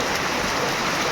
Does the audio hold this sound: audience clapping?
no